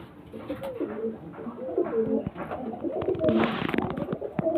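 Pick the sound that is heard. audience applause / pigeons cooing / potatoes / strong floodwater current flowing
pigeons cooing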